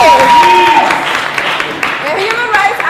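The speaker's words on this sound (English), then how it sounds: "Let's applaud for Aziz." An event audience claps for Aziz, a human rights activist from Raqqa, as light applause runs beneath cheering and raised voices, loud and close throughout.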